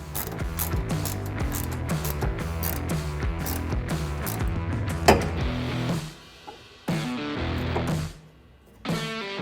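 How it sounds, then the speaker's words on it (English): Ratchet on a 13mm socket tightening bedside rack clamps on a Ford F150 5.5 ft truck bed, rapid clicking in repeated bursts, close and steady, pausing briefly near the end. "You're gonna use your 13mm socket and ratchet to tighten these down"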